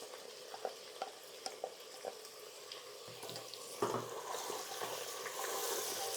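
Potatoes and beans frying in a pan for a Kashmiri curry, a soft sizzle with occasional stirring clinks, building louder toward the end, no voices.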